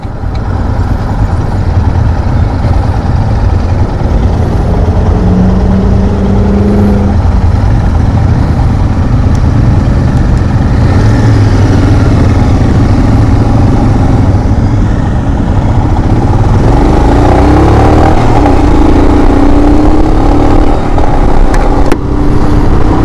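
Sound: Royal Enfield Himalayan motorcycle riding off and accelerating

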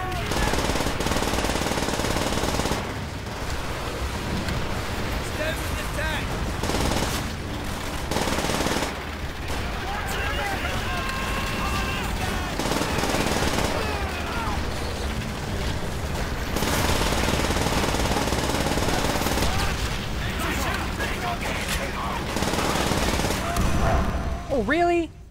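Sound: gunfire in video game Call of Duty: World at War

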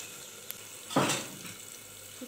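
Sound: dried red chillies and cinnamon sizzling in hot refined oil

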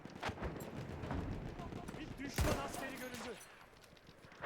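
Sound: gunfire from Battlefield 1 video game

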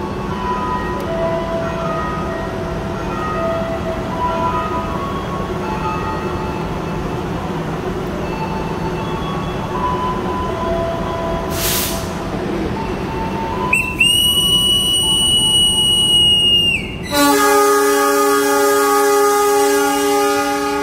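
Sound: KA Joglosemarkerto economy train departing, whistle

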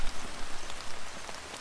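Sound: rain falling

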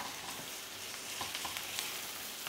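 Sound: minced meat frying in a pan

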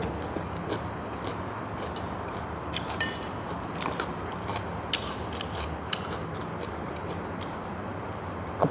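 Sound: crunchy kale being chewed

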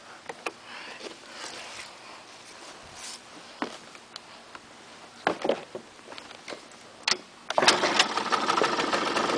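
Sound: 2002 Bombardier DS 90 quad engine kick-starting

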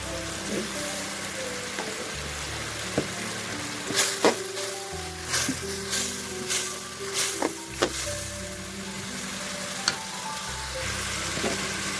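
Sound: frying masala spices with ginger-garlic paste

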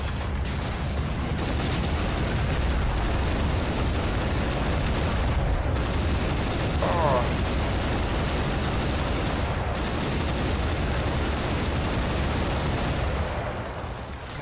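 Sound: gunfire from enemy vehicle in video game

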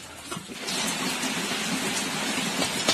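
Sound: heavy rain falling

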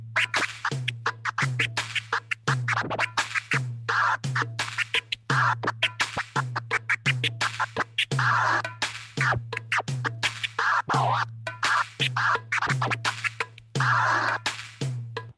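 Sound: DJ turntable scratching to a beat

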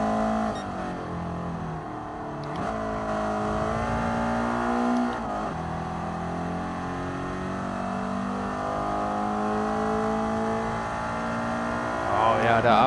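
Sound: race car engine revving in video game GT Sport

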